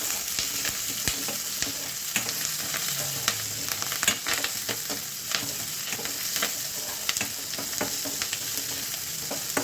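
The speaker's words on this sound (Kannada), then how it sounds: "ಇದನ್ನೆಲ್ಲ ಬಾಡಿಸ್ಕೊಳ್ಬೇಕು ಕೆಂಪಗೆ." Ingredients for radish chutney sizzle and fry steadily in a hot pan, with occasional stirring scrapes, close and continuous with no talking.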